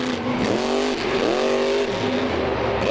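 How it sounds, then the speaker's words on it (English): Grave Digger monster truck, Dennis Anderson's truck driven by Charlie Pauken at a 2012 freestyle event, its engine roaring loud and close with rising and falling revs. "here is today's gravedigger, and appropriately, it is Dennis Anderson's truck"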